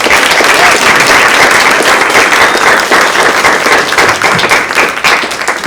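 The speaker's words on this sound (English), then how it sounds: "Can we give them a round of applause before we even hear from them?" An audience at an evening symposium panel on livestock welfare gives a loud, sustained round of applause, dense clapping filling the room throughout and tapering slightly at the end.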